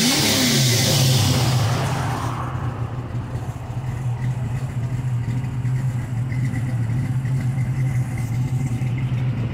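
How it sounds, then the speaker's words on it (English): A 1966 Ford Mustang's exhaust revs loudly at first, then settles into a steady deep rumbling idle that continues throughout with no talking. "You hear the exhaust."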